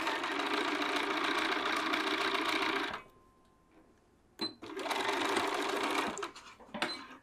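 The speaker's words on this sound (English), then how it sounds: "then we're going to go sew right along that edge." A sewing machine stitches the underarm seam of a petal sleeve in a fast, close, rattling run, stops for over a second, then starts again in shorter bursts.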